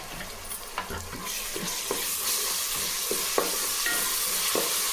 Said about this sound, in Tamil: நல்லா வதக்கலாம் இது அடி பிடிக்காமல் இருக்குது